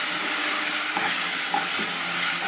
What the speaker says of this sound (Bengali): আদাটা এটার সঙ্গে ভালো করে মিলিয়ে নিয়ে ভাজা ভাজা করবো